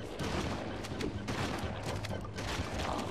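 A rapid fusillade of gunfire in Halo Combat Evolved, dense overlapping shots crackling steadily and fairly faint for about three seconds.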